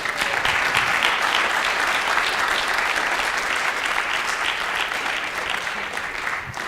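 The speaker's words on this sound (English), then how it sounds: "I'll totally take some clapping right now" Sustained applause from a conference audience at a blockchain talk, a broad even wash of many hands clapping together, loud and steady from start to finish.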